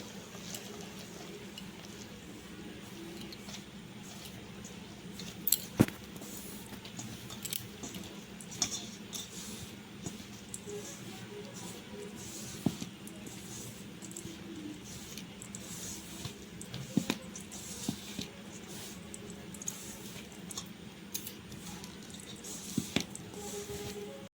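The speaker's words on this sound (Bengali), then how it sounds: "এবার এটাকে সুন্দর করে মেখে নেবো" Kulcha dough being kneaded by hand with water worked in gives soft, wet squishing and sticky squelches that repeat steadily and faintly over a long stretch, with no voices.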